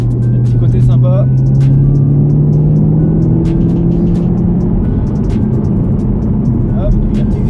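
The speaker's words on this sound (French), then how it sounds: "la petite accélération qui vous emmène très vite aux limites de vitesse" A 2017 Chevrolet Camaro SS accelerates in a steady low engine drone with a slowly rising tone, heard from inside over constant road rumble while someone talks throughout.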